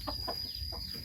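Pradu Hang Dam hens on a Chiang Mai farm giving a few soft, scattered clucks as they are let out, faint against steady background hum and a thin high whine.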